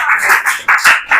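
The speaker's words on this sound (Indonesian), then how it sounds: "Nah, beri tepuk tangan dulu." An audience claps at the end of a classroom presentation on Islamic jurisprudence. A short, loud burst of applause rises and falls in several quick swells.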